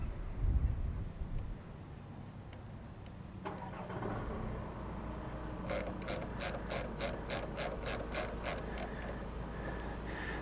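The diesel engine of hedge-cutting machinery is being started outdoors, with a low rumble and mechanical clatter building into a steady run of rhythmic, rapid clicking pulses from the engine.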